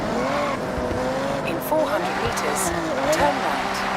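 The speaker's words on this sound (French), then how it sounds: "On est tout en drift." A car drifts in the Forza Horizon video game, its engine droning with tires squealing through a slide, while a person talks over it throughout.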